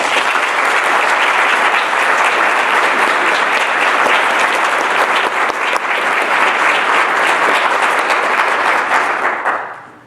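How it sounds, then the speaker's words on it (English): An audience gives a loud, dense round of applause that holds steady for about ten seconds before quickly dying away at the end. "So if we could give them a round of applause."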